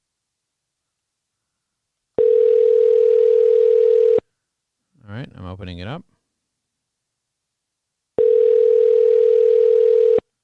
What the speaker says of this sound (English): I just press call, and it's ringing.